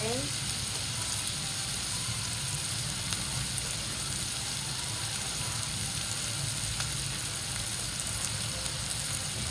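Onion and ginger frying in oil for Bicol Express, a steady close sizzle and crackle that runs without pause, with faint clicks on top.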